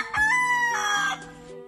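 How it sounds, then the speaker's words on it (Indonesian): Rooster crowing at midnight, one close, clear cock-a-doodle-doo with a rising start, a held middle and a falling end, alone and without talk. "pernahkah Anda mendengar ayam berkokok di tengah malam?"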